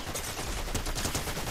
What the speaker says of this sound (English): Oh, shit, I'm missing all my shots